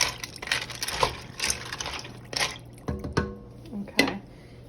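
Noodles are stirred in a one-pot meal with added cheese, producing soft, wet squishing and sloppy churning with a few light knocks of the spoon against the pot, close and moderately quiet.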